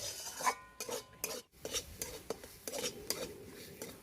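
Spices and peas being stirred and fried in a pan for a cauliflower paneer dish, with a spoon scraping the pan repeatedly in an uneven rhythm over a soft sizzle, close by and fairly quiet.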